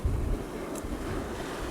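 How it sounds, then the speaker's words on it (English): An ocean wave surges into a rocky tide pool channel at Point Lobos, a loud rushing wash at the start that settles into a steady roar with wind buffeting the microphone. "just show you the coralline algae as the wave comes in"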